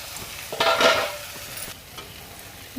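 A spoon stirs banana flower ghonto with rice flour paste in a hot pan: a loud, close scraping stir lasting about half a second over a low sizzle, then quieter sizzling with a couple of light clicks, no voices.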